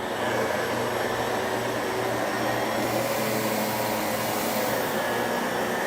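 A Miele Guard L1 vacuum cleaner runs on thick carpet with a loud, steady whooshing motor roar that holds constant throughout, with no voices.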